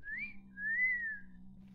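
A person whistles a short two-part tune, a quick rising note and then a longer sustained one, close and clear over a low steady hum, during a modded Minecraft 1.16.5 server session.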